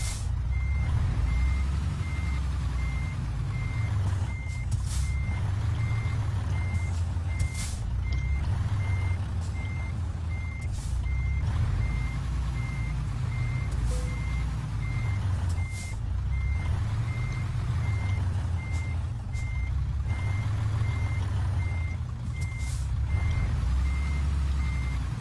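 A truck in the Euro Truck Simulator 2 video game rumbles steadily with a deep engine drone, while a reversing alarm beeps in a regular rhythm over it for the whole stretch.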